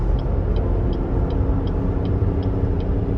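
2014 Cadillac SRX all-wheel drive with 64,000 miles on a test drive, a steady loud cabin rumble of road and engine noise with a faint regular ticking, like a turn signal, above it.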